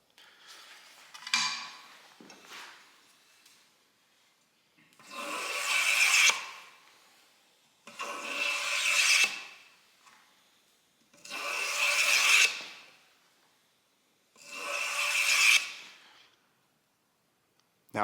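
Slow, rhythmic rasping strokes of a hand tool shaving a split-timber wooden dowel from eight to sixteen sides for an arrow, five or six drawn-out scrapes separated by brief pauses, close and clear.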